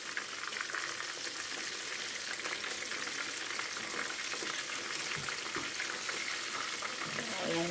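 Food frying in a hot pan while being turned over, a steady dense sizzle throughout with occasional soft scraping and stirring knocks, close and continuous.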